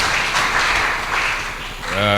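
A church congregation applauds and acclaims together in a steady, dense wash of clapping and voices that dips slightly midway, with a sung or spoken tone rising at the very end.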